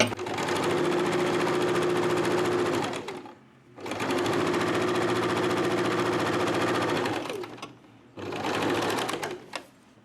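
A sewing machine stitches piping on a hand piece for a garment in three long, steady motor runs, each stopping briefly before the next begins, loud and close with no voices.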